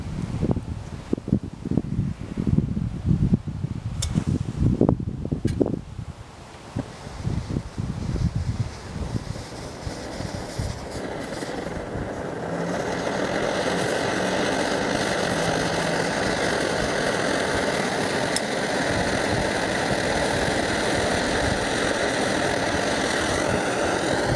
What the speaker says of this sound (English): you should let it burn for a minute or two to heat up the burner